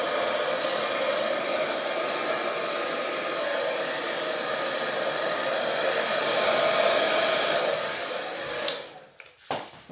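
A hair dryer blows air steadily across an acrylic Dutch pour on canvas, a loud continuous whoosh for most of the time before cutting off near the end into scattered handling noises.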